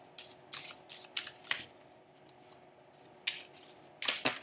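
A deck of cards handled close up: several quick riffling and sliding bursts come in clusters separated by short quiet pauses, with no talking.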